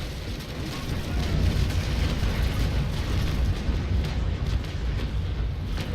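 Heavy naval cannon fire from wooden sailing warships in Naval Action, the frigate Surprise against Rennomme, a dense continuous rumble of booming broadsides and hull impacts, loud and sustained with no clear gaps.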